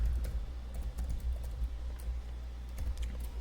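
Typing on a computer keyboard while coding, a steady stream of quick soft key clicks in an irregular rhythm over a low background hum.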